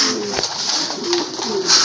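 Pigeons kept for sale coo in soft, throaty calls, close and fairly loud over a steady background hum, in a short burst.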